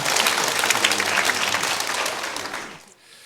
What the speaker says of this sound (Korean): 그럼 박수 한번 치죠.